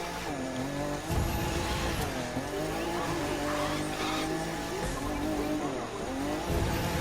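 Rally car in The Crew 2 video game, the East African Safari number 64, drives hard with a droning engine and shifting revs, tires squealing through corners, and a voice talks over it throughout.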